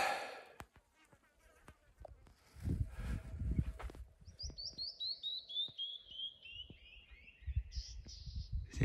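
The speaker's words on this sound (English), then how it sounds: "Does anybody know what that bird is?" A bird sings a clear run of repeated chirping notes along the Santa Elena Canyon Trail, fairly near and alone in the second half, after a stretch of breathing, footsteps and outdoor movement.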